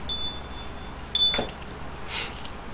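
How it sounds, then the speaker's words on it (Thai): A small lucky bell is shaken, giving two bright, ringing chimes separated by a pause, followed by a fainter jingle, fairly close against a quiet room. "อาจารย์จะสั่นกระดิ่งโชคลาภเป็นความสำเร็จนะ"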